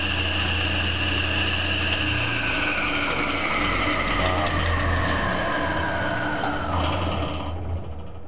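A table saw starts and whirs at a constant high pitch near the mic, with a slow descending whine as the blade spins, a steady mechanical drone.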